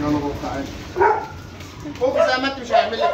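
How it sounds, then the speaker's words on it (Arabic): A fierce farm dog barks in a few short bursts, close and fairly loud, mixed in with people talking in Arabic nearby. "والكلب الرد ده برضه اهو، ده الكلب اللي كان في المزرعه الشرسه"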